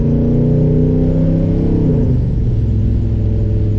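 A 1969 Chevy Impala SS with a 427 big block V8 and Flowmaster exhaust rumbles loud and close, holding a deep steady idle before the pitch shifts downward partway through.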